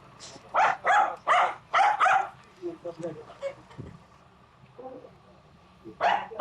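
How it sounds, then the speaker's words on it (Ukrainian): A dog barks on the road between Okhtyrka and Myropillia, Ukraine, in a quick burst of several close, loud barks, then soft whimpering and quiet sounds, before barking again at the end. "Хто ти, пес?"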